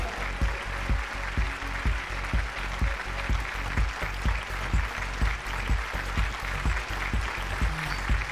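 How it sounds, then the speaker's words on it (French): Steady, fairly loud audience applause at a launch event for a new line of body makeup, with regular rhythmic clapping beats sustained throughout, and no talking over it. "Applaudissez bien fort"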